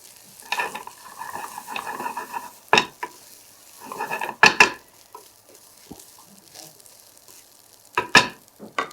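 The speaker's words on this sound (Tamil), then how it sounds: "ஸோ சிம்மில் வச்சு தான் இது எல்லாத்தையும் சாட்டே பண்ணணும்." Ingredients for a curry leaf chicken fry are sautéed in a pan on a low flame: a quiet background sizzle broken by occasional sharp spoon scrapes and knocks against the pan, no speech.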